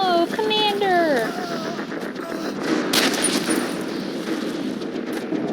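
Dense bursts of gunfire from a Call of Duty: Modern Warfare 3 battle, loud and continuous, with sharp shot transients rolling under a couple of voices talking early on.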